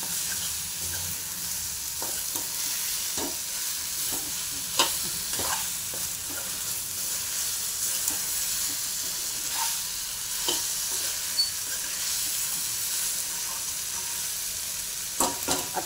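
Cauliflower sabzi stirred in a hot pan on a gas stove, a steady soft sizzle of frying with repeated scraping clicks of the spoon against the pan, close and continuous, with no talking.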